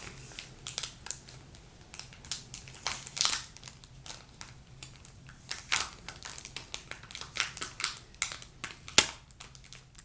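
Paper crinkles and tears in irregular bursts, with sharp crackles and soft rustles as an envelope is opened up close.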